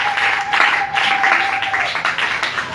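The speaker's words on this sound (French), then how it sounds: "Acclamons plus fort pour la gloire du Seigneur Jésus-Christ." A church congregation claps together during a worship service, producing dense, steady applause that holds at a fairly loud level throughout.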